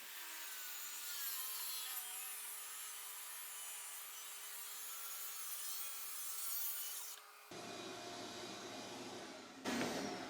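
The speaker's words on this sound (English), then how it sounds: "So let's get our track saw out." A track saw slices through an interior wooden door in one long, steady cut, a loud sustained whine and rasp of blade on wood that runs for several seconds before cutting off abruptly, followed by a brief motor rundown.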